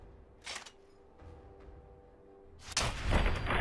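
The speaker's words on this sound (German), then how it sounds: "Und das war ein cooler Schuss." A gunshot in the Fallout 4 video game, a sharp broadband crack near the start followed by a louder, sustained burst of shot and impact noise toward the end, with no talk.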